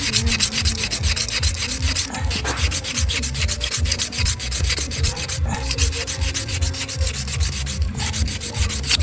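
Steady abrasive sanding of a small metal part from an electric fan under repair, a continuous close rubbing scrape with rhythmic back-and-forth strokes and no talk.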